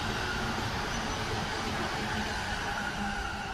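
Inside a moving train in Japan bound for Yokohama, a steady, fairly quiet rumble of wheels and carriage noise holds evenly throughout, with no voices.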